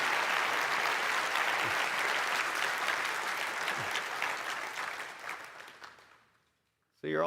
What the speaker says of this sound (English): Why don't we just do one more round of applause for the Giga Chad himself